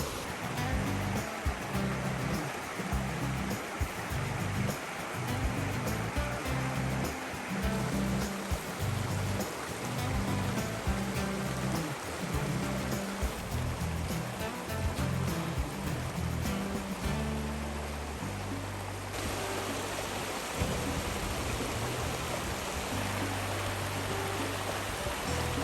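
Water flows steadily through a small gate, a continuous close rushing and gurgling that fills the whole stretch, with a low churning undertone and no voices.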